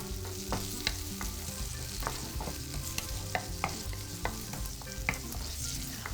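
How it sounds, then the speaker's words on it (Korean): Vegetables stir-fried in a pan with a spatula, with cucumber among them, while cooking sweet and sour pork for a Chinese cuisine practical exam. Steady loud sizzling runs throughout, punctuated by sharp scraping clicks of the spatula every second or so. "주걱을 이용하셔서 볶아주시면 되시고요."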